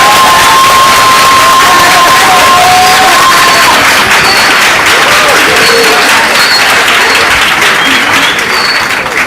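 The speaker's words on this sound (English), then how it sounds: "Give another round of applause for Kaisa." Loud, dense applause and cheering from a crowd at a maritime open day fills the whole stretch, steady throughout, with whistles and shouts rising over the clapping.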